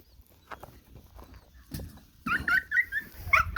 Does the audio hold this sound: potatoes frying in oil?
no